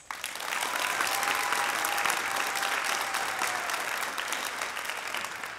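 Sustained applause from an audience at a fifth grade elementary school graduation ceremony, a dense, steady clapping that swells quickly and holds for several seconds without talk.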